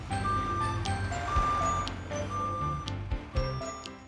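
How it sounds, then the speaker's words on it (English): A truck passes near a child's room, sounding as a jangly, chime-like jingle over a low rumble, with bright ticks and tones repeating for a few seconds. "Hey! Look! It's a truck."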